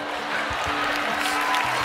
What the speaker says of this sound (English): everyone's smiling and clapping except for Mel B